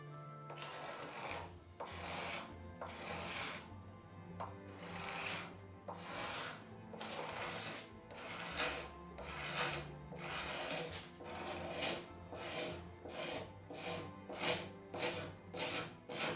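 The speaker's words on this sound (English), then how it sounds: "So a bit of scraping." Wood being scraped on a door during restoration, a steady series of rasping strokes that repeats throughout, close and fairly loud, with the strokes quickening toward the end.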